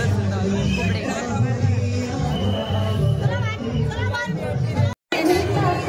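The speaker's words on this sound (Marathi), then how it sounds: "गर्दी तर एवढी जाम आहे ना, अजून खूप गर्दी आहे." Thick, continuous babble of a jammed crowd at the Ganpati festival in Parel, many voices chattering close by without pause.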